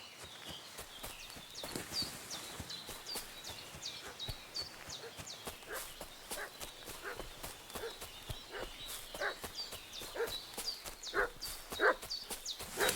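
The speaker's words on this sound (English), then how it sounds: "What's that dog making such a fuss about?" A dog barks repeatedly and insistently in Kingdom Come Deliverance II, its sharp barks mixed with what sound like footsteps or hooves over a steady outdoor background.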